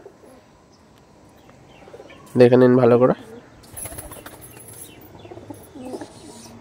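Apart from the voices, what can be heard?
restless pigeons cooing and flapping wings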